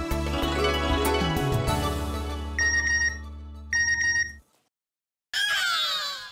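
Bank message notification tones on a phone in a TV comedy scene come as a run of bright repeated chimes over a sustained tonal background, then stop, followed after a pause by another tone.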